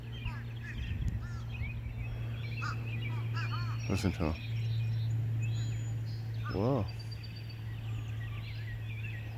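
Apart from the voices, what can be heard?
crows calling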